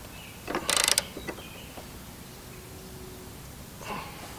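Wrench tightening a lawn mower blade bolt, a brief close burst of ratcheting clicks near the start followed by a few lighter metallic ticks and a faint later rattle against a quiet background.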